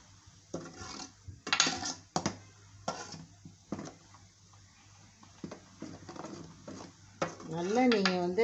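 Coconut oil with curry leaves is stirred in a large metal pot, giving scattered scraping and clinking strokes at moderate volume, with a faint sizzle rising near the end.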